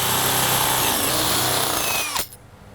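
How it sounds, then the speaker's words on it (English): A power drill whirs loudly and continuously for about two seconds while drilling holes for an Andersen storm door, then cuts off abruptly, leaving near silence. "I'm just going to definitely make sure to drill the correct sizes"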